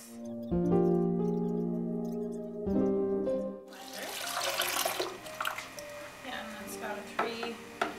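Juice is squeezed from Valencia oranges: a steady humming tone comes first, then gives way to loud, wet, broadband squishing and trickling liquid that runs on unevenly to the end.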